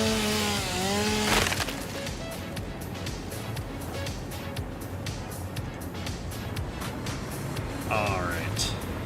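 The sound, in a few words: chainsaw cutting wood in the video game Satisfactory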